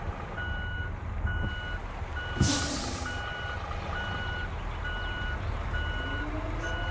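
In Euro Truck Simulator 2, a truck backs up while maneuvering to unload, its reversing alarm beeping in an even repeating rhythm over a low engine rumble, with a sharp burst of air brake hiss partway through.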